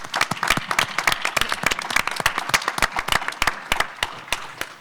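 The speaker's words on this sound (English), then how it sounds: "a huge round of applause for the democracy warriors on this stage" A small crowd at an election-campaign event applauds, with dense, uneven clapping that stays fairly steady for several seconds before thinning slightly at the end.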